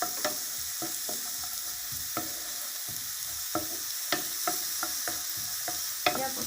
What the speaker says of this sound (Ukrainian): смажу цибульку з грибами